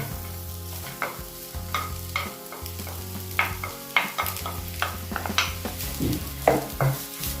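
Oil crackles and hisses steadily as chopped onions fry in a pan for hunter's börek, with occasional scraping of a spoon stirring them.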